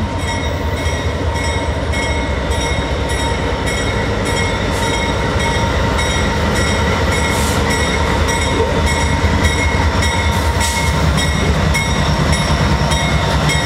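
CN freight train in Sarnia led by four locomotives, rolling past loudly and continuously with steady wheel rumble, rhythmic clicking over rail joints and occasional metallic squeal throughout.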